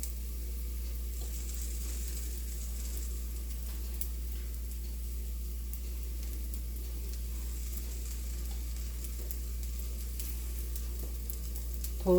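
Gram flour pancake cooking in oil in a pan over a low gas flame, giving a faint, steady sizzle that runs evenly throughout with no voices.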